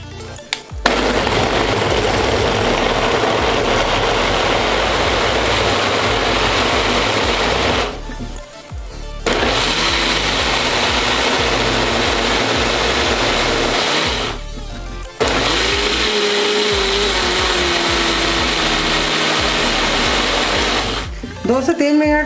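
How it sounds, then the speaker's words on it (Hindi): A mixer grinder grinding ingredients with water for a detox juice whirs loudly and steadily in three long bursts, with brief pauses between them as it stops and restarts. "दो से तीन मिनट हम मिक्सी को चलाएंगे।"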